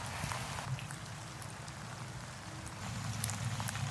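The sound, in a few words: rain falling while fishing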